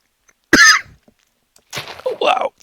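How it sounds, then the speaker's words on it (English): A single sharp, close cough bursts out, then short throat-clearing noises and a few murmured sounds follow after a pause. "that was just a random cough"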